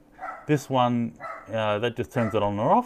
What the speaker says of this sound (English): Excuse the little dogs, they're annoying.